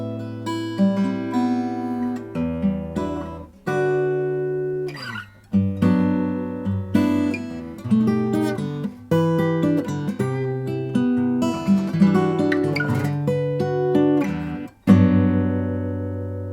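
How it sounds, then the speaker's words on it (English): Santa Cruz OM Deep Body acoustic guitar with moon spruce top and fiddleback mahogany body, fingerpicked in warm ringing phrases with deep bass notes and short pauses, close and clear with no talking. "not everybody makes a guitar that sounds like this."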